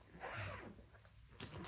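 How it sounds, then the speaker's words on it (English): A smart suitcase being zipped up, a single close, smooth zipper pull lasting about a second, followed by a short second rasp. "Zip that up."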